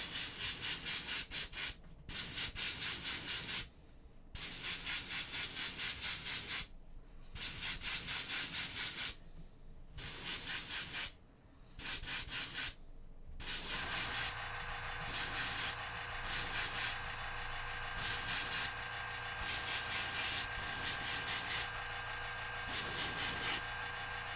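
A spray can hisses in repeated bursts while priming a model, each lasting a second or two with short gaps, close to the microphone.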